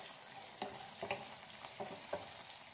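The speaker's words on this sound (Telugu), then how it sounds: "రెండు బెండకాయలు వేసుకొని ఫ్రై చేసుకోవాలి" Okra sizzles softly in hot cooking oil while vegetables cook for a mixed-vegetable stew, a faint steady fry broken by a few light stirring scrapes.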